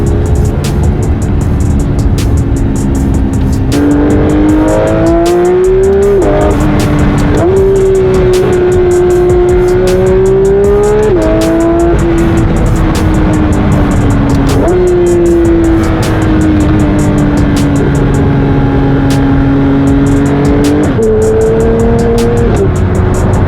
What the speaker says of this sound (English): It's about time we do our first actual launch in the 992 3RS.